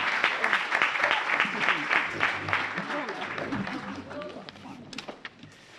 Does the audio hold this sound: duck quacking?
no